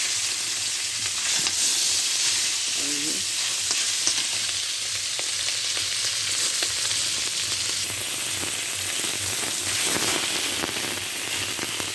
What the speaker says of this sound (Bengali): এবারে ভেজে নেবো আমি